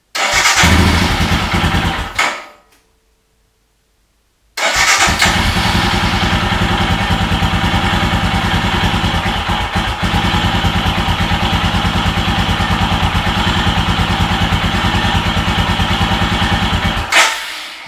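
A Royal Enfield Himalayan motorcycle engine cold-starts, runs briefly, cuts out for a couple of seconds, then fires again and settles into a loud, steady thumping idle close by.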